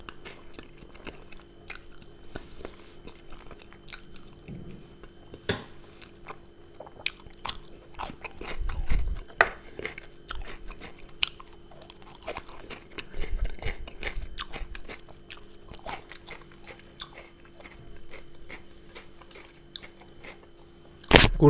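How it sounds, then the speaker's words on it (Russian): Close, crisp crunching and chewing of butter-fried potatoes, beef cutlets, homemade bread and cheese-dough pirozhki, with steady bites and munching over a faint hum and a couple of louder, heavier chewing spells. "мы кушаем жареную картошку на сливочном масле, прекрасные говяжьи котлеты, домашний хлеб, ну пирожки с сырным тестом"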